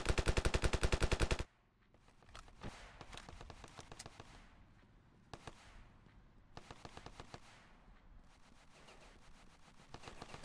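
Rapid automatic gunfire rings out in a RavenField battle for the coastline, a loud close burst at the start, then quieter repeated volleys and scattered single shots continuing throughout.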